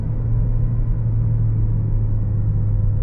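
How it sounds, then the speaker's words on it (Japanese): Constant low rumble of road noise inside a moving Mazda 3, smooth and steady with a muted hum and no voices. "走行時に出るロードノイズの音がロークラスの車と比べかなり静かです。"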